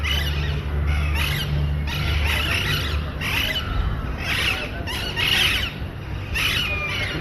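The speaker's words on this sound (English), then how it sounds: "Yeah, there are a lot of parrots." Parrots squawk and squeal again and again in a noisy, irregular chorus. The shrill calls repeat every second or so, close and loud, with a low hum underneath.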